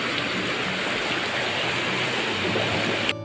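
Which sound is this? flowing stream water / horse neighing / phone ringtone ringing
flowing stream water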